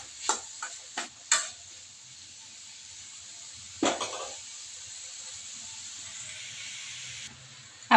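A dish cooking in a pan and stirred so it does not catch on the bottom: a steady sizzling hiss under several sharp scrapes of a spoon against the pan, close and alone.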